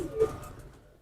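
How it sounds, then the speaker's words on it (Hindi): A golden-coloured Ferozepuri cross pigeon, a big sturdy bird, gives a single short low coo close by, fading out quickly. "बड़ा तगड़ा कबूतर है।"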